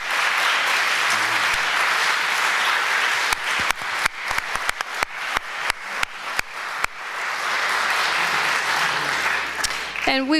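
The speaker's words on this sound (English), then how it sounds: "Let's have another round of applause for our great speakers." A conference audience at an anti-war and environmental activism event applauds its panel speakers, with sustained clapping that thins into scattered individual claps midway before swelling again, loud and close.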